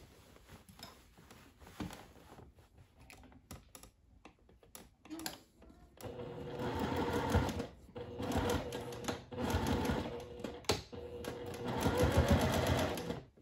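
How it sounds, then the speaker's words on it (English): A home sewing machine backstitches across elastic at the top and bottom of a sundress seam, with a few quiet stops and clicks first, then loud, rapid stitching runs in several bursts. "I'm back stitching at the top and bottom of the elastic"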